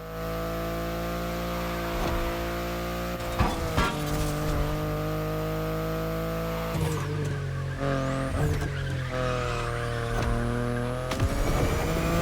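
BMW i8 sports car driven in the racing game The Crew Motorfest: a steady, close engine drone that rises and falls in pitch as it shifts, with brief tire squeals and skids, and no talking.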